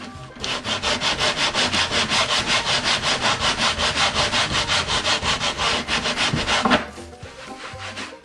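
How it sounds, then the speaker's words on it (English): Steady back-and-forth sanding strokes rasp against wood on a guitar under repair, rhythmic and fairly loud for about seven seconds before stopping abruptly, followed by a few quieter handling sounds. "Now this is a little bit rough, so I'm going to sand in here."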